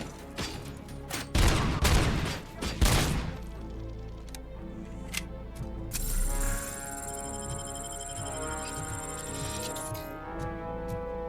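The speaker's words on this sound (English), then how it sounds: "we were literally just shooting at a corpse with that" Gunfire in RoboCop: Rogue City, a cluster of sharp, loud shots in quick succession early on, then scattered single cracks and a ringing electronic tone as the shooting dies down.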